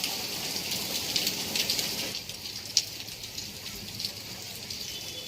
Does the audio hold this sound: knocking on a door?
no